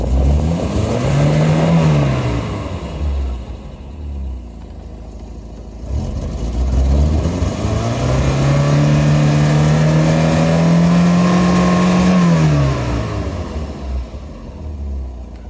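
Porsche 924 four-cylinder engine revved at wide open throttle, climbing in two long pulls that hold near the top before falling back, loud and close with a steady rumble underneath.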